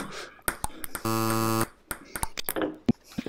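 A game-show-style buzzer sounds once as a loud, flat electronic tone lasting about half a second, set among sharp ping pong ball clicks and bounces during a casual table tennis game.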